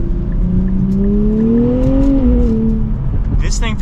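2024 Nissan Z Nismo engine pulling under acceleration from inside the cabin, a loud steady rising drone that climbs in pitch then eases off, with a brief mechanical click near the end.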